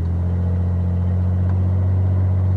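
Steady, loud low rumble of road traffic heard from inside a moving car in Tennessee, a constant droning engine and road noise with no distinct pass-bys and no talking.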